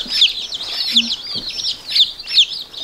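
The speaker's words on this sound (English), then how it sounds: "Little baby chickies." Baby chicks in a brooder give a steady chorus of high, thin peeps, with repeated sharp chirps rising over a constant twittering backdrop close by.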